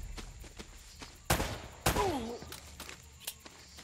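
Gunfire cracks twice amid a firefight in Uncharted: Drake's Fortune, with scattered footsteps and a brief warbling cry between sharp bursts, no talk.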